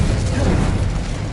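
The Confringo explosion spell in Hogwarts Legacy: a loud, roaring blast with a deep rumbling body that fills the short moment without pause.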